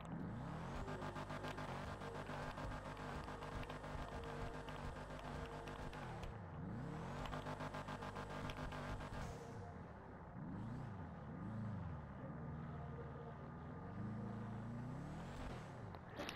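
A customized Sultan RS car engine in a video game revs loudly and repeatedly, its deep growl rising and falling in pitch over a steady rumble, with no voices.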